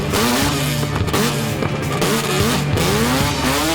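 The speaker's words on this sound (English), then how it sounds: "And casually hop back in the car and continue on with your burnout." A car doing a burnout with a line lock brake at a burnout competition: a loud, sustained, high-revving engine with tire squeal running unbroken throughout, with no talking.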